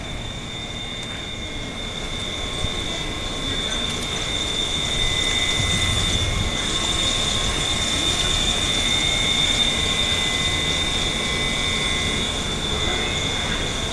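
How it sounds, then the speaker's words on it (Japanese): An out-of-service train rolls steadily past on the Tokaido Main Line at Nebukawa Station, its wheels squealing with a high sustained whine over a constant rumbling roar, no voices. "この列車は回送列車ですね。"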